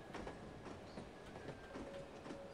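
Inside a moving train in the video game The Operative: No One Lives Forever, a faint rumble carries soft rhythmic clickety-clack and rattling of the carriage, with no voices.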